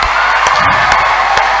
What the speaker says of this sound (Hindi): एक बार अपने आप के लिए दोनों हाथ ऊपर करके जोरदार तालियां बजा दीजिए